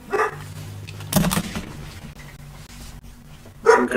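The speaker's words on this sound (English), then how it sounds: "I don't know who's barking at what." A dog barks a few times in the distance behind a low steady hum, with a sharp burst near the middle and another at the end.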